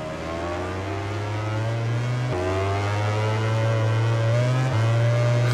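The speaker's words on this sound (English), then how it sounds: "I can hear that Ducati just closing in" A Ducati MotoGP bike engine in the MotoGP 20 game at wet Assen screams steadily and loudly, its pitch holding high with sharp gear-shift drops around two and a half and near five seconds, without talk.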